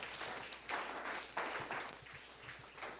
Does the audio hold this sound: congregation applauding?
yes